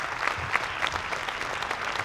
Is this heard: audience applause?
yes